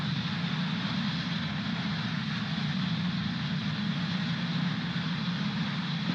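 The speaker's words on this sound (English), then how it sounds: "Falcon 9 has successfully lifted off from Space Launch Complex 40" Falcon 9 rocket engines during ascent after liftoff from Space Launch Complex 40, a steady, dense low roar with broad hiss, unbroken and even in level throughout.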